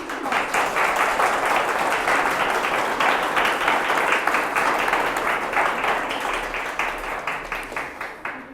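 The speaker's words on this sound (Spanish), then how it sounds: "Den un aplauso a Dios." A church congregation applauds during a Spanish-language sermon, with dense, steady clapping that fills the space for the whole stretch and tapers slightly near the end.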